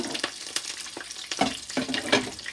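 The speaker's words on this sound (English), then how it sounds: "thyme and the Scotch bonnet pepper here in the oil" Scotch bonnet pepper, thyme and garlic frying in hot oil, giving close, crackling sizzles with irregular pops and bursts over a few seconds while fish is being prepared.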